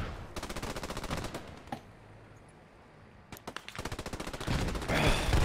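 Machine gun fire in Post Scriptum, two long rapid bursts of automatic shots separated by a brief lull, close and loud.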